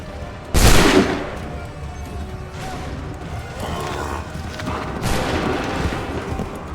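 A volley of soldiers' musket gunfire bursts out in Assassin's Creed III, a loud crack followed by rolling, crowded echoes and a second scattered round a few seconds later.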